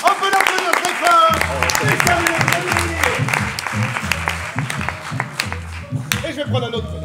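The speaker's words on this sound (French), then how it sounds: "On peut l'applaudir très fort" Audience applauding loudly at an improv theatre show at a Paris improv festival, with dense clapping running throughout and music and voices mixed over it.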